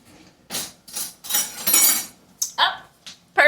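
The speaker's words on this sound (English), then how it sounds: "Let's find a smaller spoon, huh?" Metal cutlery is rummaged through for a smaller spoon: close clinks and rattling scrapes in several short bursts, one drawn-out jangle in the middle, with brief pauses between.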